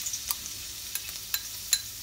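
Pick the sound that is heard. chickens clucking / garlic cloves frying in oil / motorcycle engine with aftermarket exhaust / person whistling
garlic cloves frying in oil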